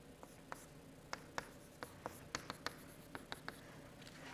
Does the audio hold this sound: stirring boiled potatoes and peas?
no